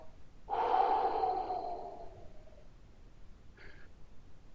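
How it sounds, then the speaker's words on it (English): A single big exhale during a standing workout stretch, loud and breathy with a tonal, snort-like edge, trailing off over about two seconds, followed by a faint short breath. "Big exhale."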